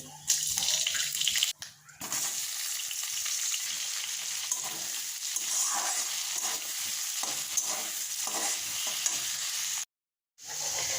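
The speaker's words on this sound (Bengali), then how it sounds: "কড়াইতে নুন আর হলুদ দিয়ে দিলাম ডিমটা এখন ভেজে নেব" Eggs frying in a kadai with salt and turmeric, a loud continuous hissing sizzle close up, broken by short silent gaps near the start and toward the end.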